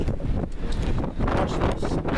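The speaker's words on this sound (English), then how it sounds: "It's really windy." Strong wind buffets the microphone in continuous loud gusts, a rough, rumbling roar with no clear speech.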